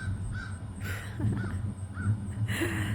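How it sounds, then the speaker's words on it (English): Several crows in a herb and dye garden give a handful of close, harsh caws spaced across a few seconds, over a low, steady rumble from a nearby motorcycle. "Hello, crow."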